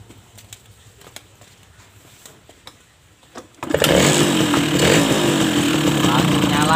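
A Suzuki RC motorcycle with a weak ignition that is hard to start in the morning fires up abruptly after a few quiet clicks, then settles into a loud, steady, close-up idle that runs to the end.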